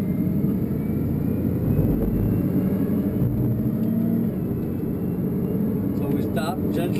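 Bugatti Veyron pulling away smoothly on a rough Spanish test track, a steady low engine rumble and whir that holds loud and close throughout, with voices talking over it.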